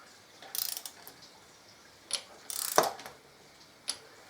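A torque wrench set to 16.5 newton metres tightens the spark plugs on a 2014 Harley-Davidson Electra Glide, with a few short bursts of ratchet clicking and one sharp click, close and fairly quiet.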